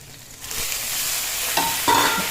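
Fish pieces dropped into a wok of hot oil with garlic and green and dried chilies, the sizzle swelling loud and close as they are stirred, with scraping clinks toward the end and no voices.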